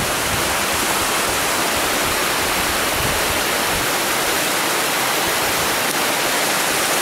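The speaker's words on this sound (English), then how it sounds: "you can hear water rushing underneath it" Rushing meltwater roars steadily inside a glacier river cave in Alaska, a dense, continuous wash of broadband noise with no pauses or voices over it.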